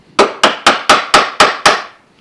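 Seven sharp, evenly spaced knocks as a mallet drives a chisel into the end grain of a wooden half-blind dovetail socket, each blow crisp and close with a short decay.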